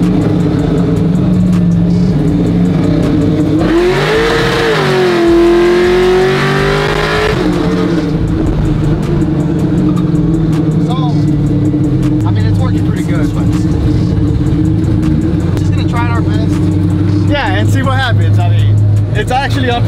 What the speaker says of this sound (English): if I downshift, it's gonna hit the limiter